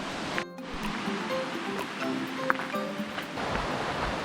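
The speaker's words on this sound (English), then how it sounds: "I don't know if you can hear me over the waterfall or the water in the river" Aber Falls waterfall and its river in Wales rush in a steady, full roar of falling and churning water, close and continuous with no voices over it.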